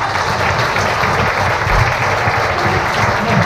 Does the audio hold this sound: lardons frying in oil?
no